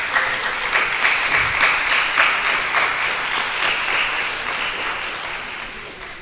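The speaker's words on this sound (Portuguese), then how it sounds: "Uma salva de palmas para ela." Sustained applause from an audience at a formal panel event honouring a book conservation figure, dense overlapping clapping held steady for several seconds before easing slightly, with no speech on top.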